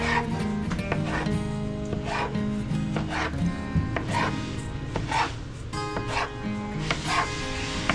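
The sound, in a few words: cutting dough to size for Bengali khaja sweets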